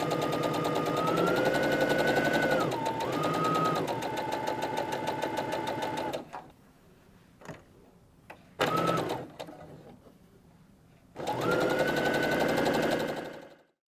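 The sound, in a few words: sewing machine stitching quilt charm pack squares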